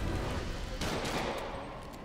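Enemy gunfire in the Spider-Man Remastered video game, a dense burst of rapid shots at steady loudness with sharper cracks mid-clip, heard alone without talk.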